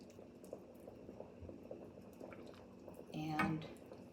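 Broth pours into a pot of turkey soup with sausage and beans, a short liquid splash and gurgle near the end over a low simmering bubble, with a voice speaking softly beforehand.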